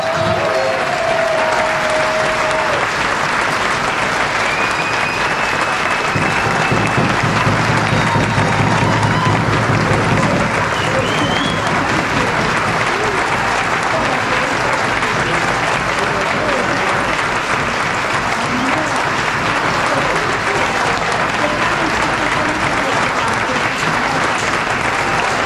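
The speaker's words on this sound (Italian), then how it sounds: "un enorme applauso per tutto" A large audience at an airsoft event gives loud, sustained applause, dense clapping that holds steady from start to finish.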